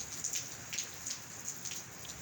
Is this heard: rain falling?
yes